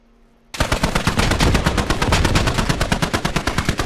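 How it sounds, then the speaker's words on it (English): Rapid automatic gunfire from a video game heard through a microphone bursts in after half a second of near silence, a loud, steady stream of evenly spaced shots with no talking. "So I can hear the gunfire through your microphone, but I haven't seen it."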